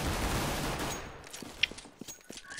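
Gunfire in a video game clan match, with a dense burst of rapid fire at the start giving way to scattered single shots and impacts, fairly close and loud, with no talking.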